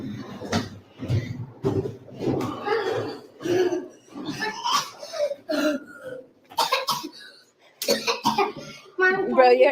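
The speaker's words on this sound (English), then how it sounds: "You're extra with all that coughing." Several harsh coughs come in bursts, mixed with laughter and excited voices talking close to the microphone.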